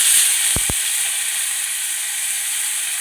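Curry leaves dropped into hot oil for Tamil coconut and lemon rice, a steady bright sizzle and hiss throughout, with two quick clicks near the start and no talk.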